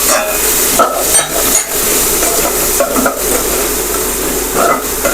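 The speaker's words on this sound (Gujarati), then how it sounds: "ડુંગળીને આપણે બરાબર સાંતળી લેશું જેથી કરીને ડુંગળીમાં જરા પણ કચાશ ન રહે" Onions sautéing in a pan with salt and asafoetida, a steady broadband sizzle with scraping stirs recurring every second or so, close and loud, no talking.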